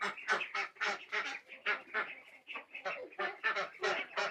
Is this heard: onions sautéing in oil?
no